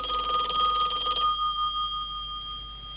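An old telephone bell rings loudly and steadily for about a second, then its tone hangs and fades out in a quiet room.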